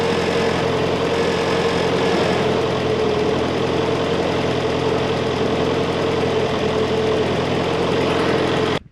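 An M151 military jeep engine idles steadily after a carburetor repair, a loud, even rumble with a faint knocking beat running unbroken for the whole stretch and cutting off at the end.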